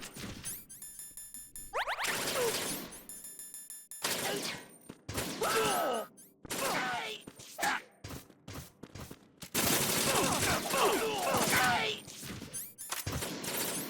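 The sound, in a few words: gunfire in Metal Gear Solid 2 video game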